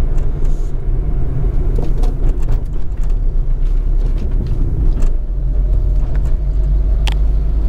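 A 1987 Citroën Visa 11 RE driving on the road, its steady low engine hum and road rumble heard from inside the cabin, continuous and fairly loud with a few light knocks and clicks.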